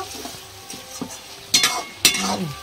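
Brief stir-frying of spices with salt and turmeric in a pot for jackfruit biryani: a low simmering hiss broken by two sharp scraping strokes of a spoon.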